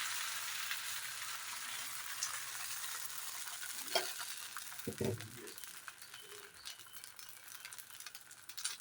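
Prandai (adamant creeper) dosa batter spreading thick on a hot stone griddle, giving a steady broadband sizzle that runs the whole time with a few faint clinks and scrapes partway through.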